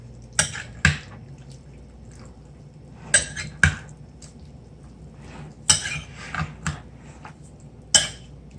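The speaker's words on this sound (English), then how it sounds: "And she's going to give it one more stir." A salad with dressing and juicy tomatoes being stirred in a bowl: a handful of sharp utensil clinks and scrapes in spaced bursts, close and fairly quiet, with no talking.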